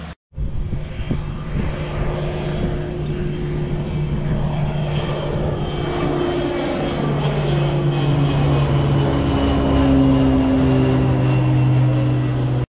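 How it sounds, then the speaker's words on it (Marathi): A small propeller aircraft's engine at a skydiving area in the Algarve, Portugal, droning loud and steady close by for the whole stretch with a shifting pitch. "अशा छोट्याशा विमानामध्ये बसून आम्ही जाणार आहोत आकाशामध्ये स्काय डायव्हिंग करायला"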